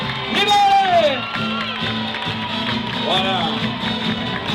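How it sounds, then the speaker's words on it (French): Audience at the Miss Surgères 2000 beauty pageant claps and cheers with whoops and shouts, a loud crowd sound that carries on under a presenter's voice. "Allez, applaudissements."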